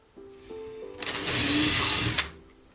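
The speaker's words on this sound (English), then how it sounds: "There we go, it's pre-drilled." A power drill whirs up briefly, then runs at full speed boring a pilot hole into a wall for about a second before winding down.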